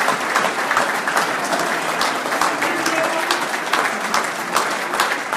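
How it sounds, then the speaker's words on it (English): Crowd applause at a dinner dance for a man called Big John, continuous clapping with sharp individual claps standing out and a faint murmur of voices underneath. "Applause over there for Big John from Bill Base."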